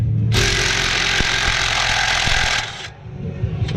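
A Snap-on CTB8172BK cordless impact wrench runs in one sustained, loud, buzzing hammering burst lasting a few seconds, then stops, leaving quieter background noise.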